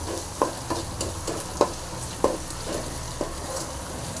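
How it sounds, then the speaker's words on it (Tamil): Onions fry in a pan with a steady close sizzle, punctuated by regular scraping knocks of a spoon stirring them roughly every half second. "நல்லா வெங்காயம் வந்து நல்லா ஃப்ரை ஆகணும்."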